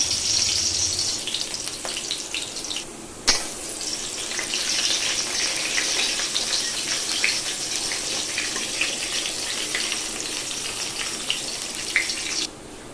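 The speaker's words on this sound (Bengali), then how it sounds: "তেলটা গরম হয়ে গেছে আর রান্না করব একদম কম আছে আর এই যে রসুন নিয়েছি আর একটা শুকনো লঙ্কা নিয়েছি এটা এখন দিয়ে দেব" Garlic and a dried red chili frying in hot oil in a Bengali home kitchen, giving a steady, close crackling sizzle that runs continuously with a brief dip partway through.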